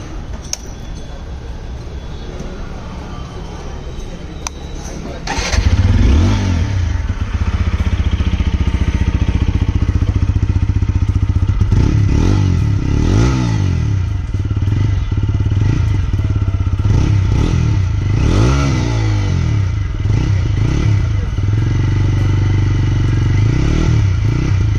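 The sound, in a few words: TVS Apache RTR 160 motorcycle exhaust sound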